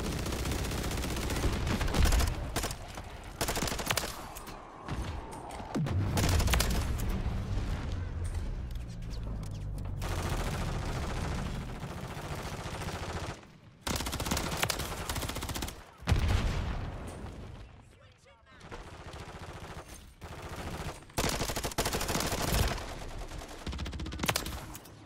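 Sentry gun fire in Call of Duty MW3, rapid bursts of automatic gunfire with booms, loud and close, stopping and starting throughout with short quiet gaps between volleys.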